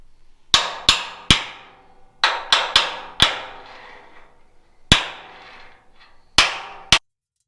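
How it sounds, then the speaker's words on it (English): A small tap hammer strikes truck metal in about ten sharp, ringing knocks, some in quick pairs and triplets, each decaying briefly before short quiet gaps. "We're going to take our little tap hammer. We're going to tap that thing over, right?"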